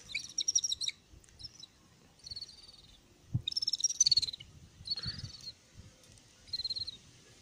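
Birds in an aviary at a bird nursery give quiet bursts of high, trilling chirps and short calls, several separate phrases with pauses between, over a faint low background rumble.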